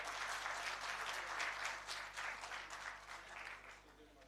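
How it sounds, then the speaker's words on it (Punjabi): Audience at an international Punjabi conference in Lahore claps for a film team, a broad steady wash of applause, fairly distant and even throughout. "ਔਰ ਇਹ ਸਾਰੀ ਉਹਨਾਂ ਦੀ ਟੀਮ ਇਹਨਾਂ ਸਭ ਵਾਸਤੇ ਢੇਰ ਸਾਰੀਆਂ ਤਾਲੀਆਂ"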